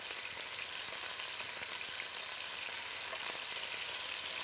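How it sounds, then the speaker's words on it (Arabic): Kofta meatballs frying and browning in a hot pan give off a loud, steady, dense sizzle that continues without a break from start to end, with no talking. "هحط الكفته تتحمر"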